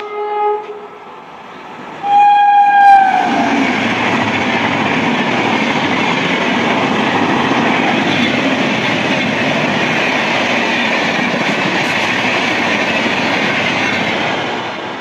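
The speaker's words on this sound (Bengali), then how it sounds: "এটা গেল দেরাদুন হাওড়া কুম্ভ এক্সপ্রেস, লেট গেল" Dehradun–Howrah Kumbh Express passing through a station, opening with a loud horn blast, then a sustained roar of coaches and clattering wheels rushing by close for over ten seconds.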